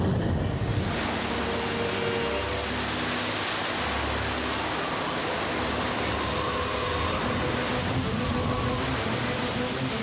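Rushing water in a cartoon scene, a loud, dense roar of surging, wave-like flow that holds steady and close throughout, with no voices over it.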